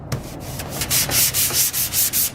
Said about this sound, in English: we're gonna take our little sandpaper and just